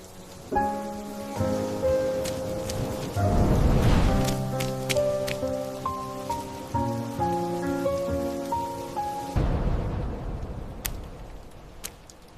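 Steady rain falls with a soft continuous patter, heard beneath gentle background music with a swelling surge partway through.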